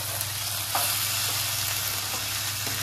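Tomatoes and coriander frying in a pan give a steady, close sizzle with faint stirring clicks, no voices.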